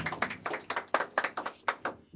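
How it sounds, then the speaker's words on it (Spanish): A small group claps at a birthday celebration with mariachi, a dozen or so crisp, uneven claps in loose rhythm, close and fairly sparse rather than a full ovation. "Fuerte el aplauso para esas palabras bonitas."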